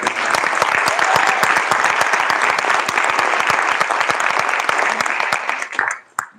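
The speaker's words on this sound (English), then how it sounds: "So I'd like to give them a quick round of applause." Applause from the audience at a Long Beach school district board meeting, a dense steady round of clapping that holds for about six seconds before cutting off abruptly.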